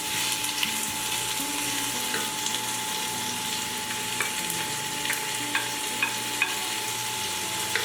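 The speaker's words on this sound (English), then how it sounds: "listen to that sizzle. You gotta love that sound" Steady, close sizzling of steak frying in a hot pot, with occasional small pops and stirring scrapes.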